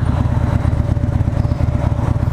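A 2013 Harley-Davidson Fat Bob on a test ride gives a loud, close, deep pulsing V-twin rumble that holds steady throughout.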